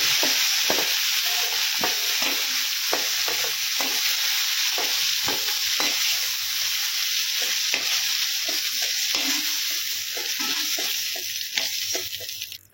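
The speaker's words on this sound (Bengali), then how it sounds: "সেই তেলে ফুলকপিগুলো ভেজে নেব।" Cauliflower pieces fry in hot oil in a home kitchen wok, giving a loud, steady sizzle with frequent sharp stirring clatters and scrapes throughout, no voices.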